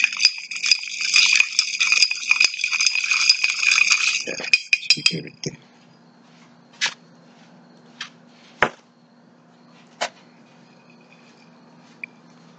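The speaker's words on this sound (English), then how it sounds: "And of course, we gotta mix it." A spoon clinks rapidly against a glass while stirring a cranberry drink for several seconds, then stops, followed by a few isolated light taps and clinks in a quiet room.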